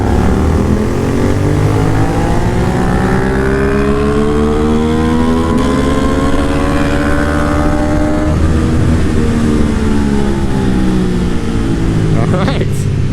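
An MV Agusta 800 Dragster RR motorcycle accelerates hard in third gear, its loud engine note climbing steadily in pitch, easing briefly, then rising again, heard up close from the rider's position.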